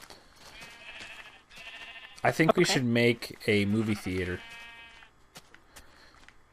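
Sheep in the Minecraft video game bleat in several short, loud wavering cries, interleaved with a person talking over quieter game background.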